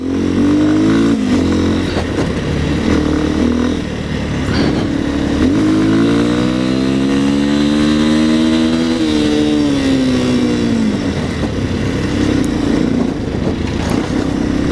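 A Bajaj Dominator 250 motorcycle engine runs steadily close by with a soft, smooth note. It rises and falls gently through mild revs and keeps a continuous loud drone with no voices.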